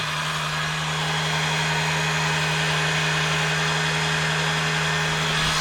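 A drill-driven oil pump priming tool spins the oil pump on a rebuilt engine, giving a steady, loud, continuous electric whine with a constant hum for the whole stretch and no talking.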